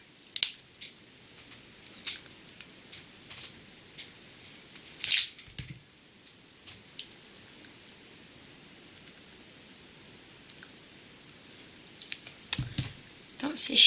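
Small scissors snip a tiny piece of paper in a series of faint, sharp, scattered clicks and cuts, with quiet handling noises between them and a couple of louder snips.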